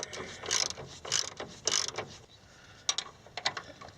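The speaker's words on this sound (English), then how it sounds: "And now we're tightening up our bolts that go through the frame into the cross member." A socket ratchet tightens bolts through the frame into the cross member while Jeep CJ-5 motor mounts are replaced, with several short bursts of clicking and a few pauses between them.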